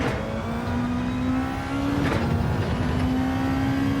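A racing car's engine revs hard through the gears at Interlagos in a racing game, a loud, steady rising whine with a brief shift dip midway, close and continuous with no talk over it.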